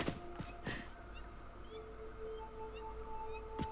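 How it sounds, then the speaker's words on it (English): Cats meow in the video game Granny's World, soft repeated chirping cries over a quiet hum. A couple of sharp knocks sound at the start. "I do hear cats though."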